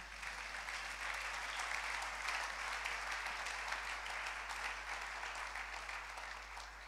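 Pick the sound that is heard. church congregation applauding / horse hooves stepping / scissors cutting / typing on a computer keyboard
church congregation applauding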